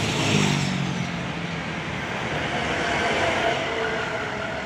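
A full passenger bus speeding along a road at the Surabaya city limit, a steady rushing drone of engine and tyres that swells slightly and holds throughout, with broad road noise and a faint low rumble.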